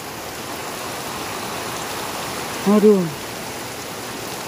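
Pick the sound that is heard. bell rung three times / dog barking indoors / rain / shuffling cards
rain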